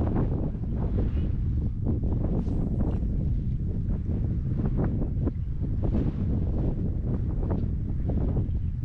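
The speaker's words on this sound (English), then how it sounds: "Boy, this wind surely is jacking everything up." Strong wind buffeting the microphone outdoors while wade fishing, a continuous loud low rumble with gusty fluctuations throughout, masking most other sound.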